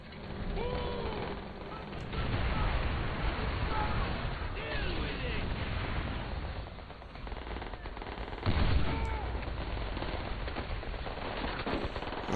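Game gunfire from Call of Duty: World at War, the fighting set in an insane asylum, with sustained machine-gun bursts and scattered shots rolling on continuously, joined by a louder burst near the end.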